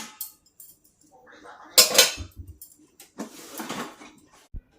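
Metal cooking pots and dishes are set down and shifted, giving scattered clanks and clatters with gaps of quiet between them, one louder cluster of clangs near the middle.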